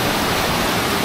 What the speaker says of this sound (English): to actually get the waterfall in front of me